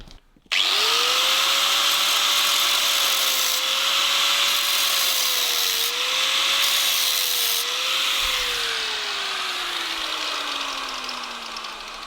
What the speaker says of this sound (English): put the disc cutter in there, just slice it and see what's in there